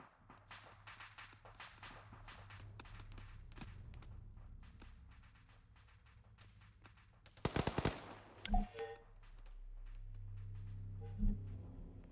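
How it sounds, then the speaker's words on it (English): Video game XRESTAC gunfight: a sharp cluster of gunshots cracks out briefly over a low ambient hum and scattered clicks, followed by a couple of heavy thuds. "Gunfight ahead."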